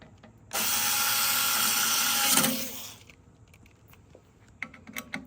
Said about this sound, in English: Put the screws back in.